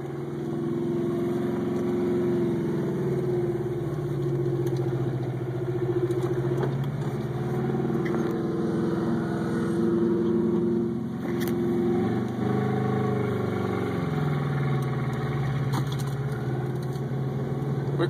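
A 1984 Subaru with a freshly installed EA81 engine drives under its own power, the engine's mid-pitched hum steady and close, swelling and easing in waves as it accelerates and lifts off, with faint rattles over it.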